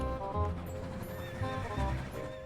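A horse in the Roblox game Dead Rails gives a loud, wavering neigh with clip-clop hoofbeats underneath, repeated over a couple of seconds against game background noise.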